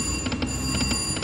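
Casino slot machines ring and chime in the background as they pay out, a faint repeating electronic jingle over a steady room hum.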